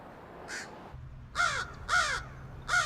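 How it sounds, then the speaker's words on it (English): A crow gives three or four harsh, nasal caws at a steady, spaced rhythm, fairly close and clear above a low, faint background hum, with no talking. "Scientists have identified over 250 distinct crow calls."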